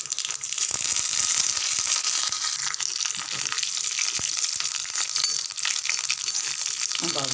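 Hot oil crackles and sizzles close up with sharp popping bursts as mustard seeds, urad dal, curry leaves and dried red chilli hit the pan, continuous and busy throughout.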